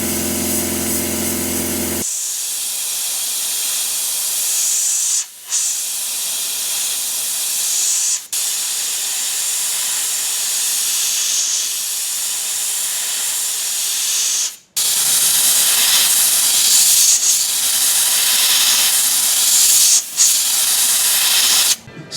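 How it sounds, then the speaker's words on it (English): Aerosol can spraying black paint onto a carved wooden chipmunk lure, a loud close hiss in long bursts separated by brief pauses. "time to spray some black and be really careful"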